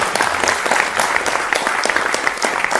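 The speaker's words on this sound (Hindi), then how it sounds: "अरे ताली तो बजा दिया करो ना।" Audience applause fills a hall at a Hindi-language political talk event, steady dense clapping from a crowd throughout without a break.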